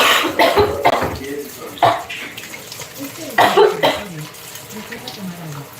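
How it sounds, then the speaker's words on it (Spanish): Several short, sharp coughs come in quick bursts, close to the microphone, with a bit of background noise between them. "La Alexa nomás me oye toser,"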